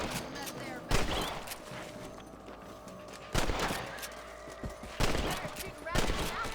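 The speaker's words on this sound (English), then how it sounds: "Better shooting rabbits than outlaws" Several loud gunshots ring out at intervals, roughly four bursts spaced a second or two apart, as rabbits are shot in the Western video game Red Dead Redemption, with game ambience underneath.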